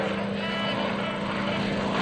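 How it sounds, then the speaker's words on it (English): A Yak-55M aerobatic airplane flies during an airshow, its propeller engine giving a steady, loud drone that holds without a break for about two seconds. "There's the pull, rolls the airplane."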